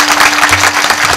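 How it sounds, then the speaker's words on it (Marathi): Audience applause at a Marathi kirtan gathering, a dense steady burst of many hands clapping close up, loud and continuous with no talk over it. "माईसाठी जोरदार टाळी वाजवा."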